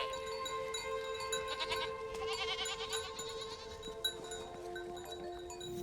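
Goats bleating in repeated wavering calls, moderately close over a steady background hum, with no talking.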